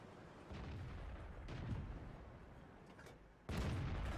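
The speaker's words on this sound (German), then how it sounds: "Und da schieße ich einfach plump daneben" Two heavy tank cannon booms from the T29 in the video game World of Tanks, separated by a sustained rumble of engine and battle noise, with the second shot landing sharply and loud.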